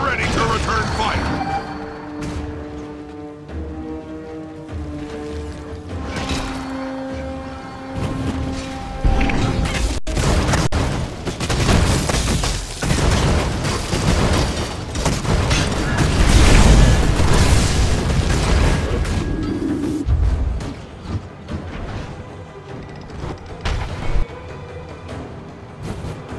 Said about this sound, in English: Your trebuchet is repaired and ready to return fire.